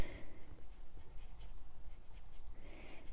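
A paintbrush swirls mica watercolor paint across paper on a slanted surface, a faint, soft, continuous scratchy brushing close by.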